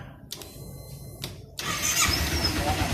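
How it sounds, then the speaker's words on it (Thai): A Z300 two-cylinder motorcycle's starter whirs in two short bursts, then the engine catches and settles into a steady, rough idle close by. "เครื่องยนต์สตาร์ทติด แต่เครื่องยนต์ตัวเนี้ยมันเป็นเครื่องยนต์สองสูบ"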